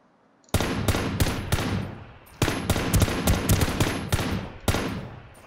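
Automatic gunfire from the online shooter Ring of Elysium cracks out in loud, rapid bursts. Three long volleys are separated by short gaps, with no talk over them.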